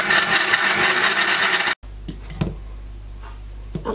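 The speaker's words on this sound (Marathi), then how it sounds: "आता या सगळ्या मिश्रणामध्ये मी थोडंसं पाणी टाकून वाटून घेणार आहे" A mixer grinder whirs loudly for under two seconds while grinding a masala paste with a little water for surmai masala, then stops abruptly, followed by quiet clinks and handling sounds.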